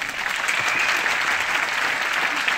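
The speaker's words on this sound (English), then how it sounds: "Give yourself a big round of applause." Dense, steady applause from an audience at a motivational talk, filling the short stretch evenly without voices on top.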